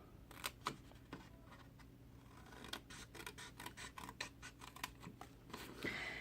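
Scissors snip repeatedly through a paper box template, cutting away a small rectangle on a half-inch flap; a steady run of close, crisp cuts with faint rustling and no talk.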